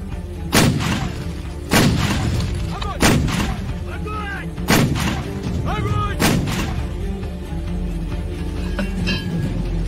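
Repeated heavy gun blasts from an action film's artillery battle, about five loud booming shots spaced one to two seconds apart, each with a sharp crack and rolling tail over a constant low rumble, with metallic clinks between.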